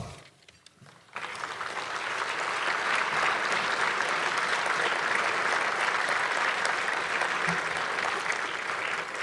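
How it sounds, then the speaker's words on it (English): A room full of people at a military honoring breakfast breaks into sustained applause after a brief quiet moment, steady and fairly loud for several seconds. "please stand for a round of applause"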